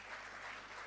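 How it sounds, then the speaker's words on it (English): Audience applause at an Achimota address honoring a professor, a steady wash of clapping filling the whole short moment without pause. "A round of applause for Professor"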